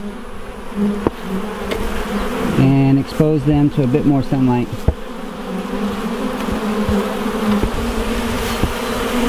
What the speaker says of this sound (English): These bees that are on here, they're just here robbing this out.